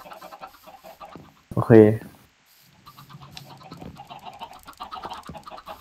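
A Minecraft chicken gives one short, fairly loud cluck in the middle of the clip, with people talking quietly before and after it.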